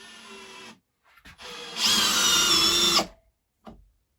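A cordless drill drives a screw into clean wood, a short whir followed by a louder, strained grinding run of about a second that stops abruptly, then a faint tap.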